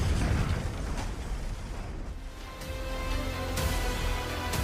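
Fuel is shot and blows up in a zombie action film, a loud broadband blast that tails off and then flares again with crackling debris and a sustained roar.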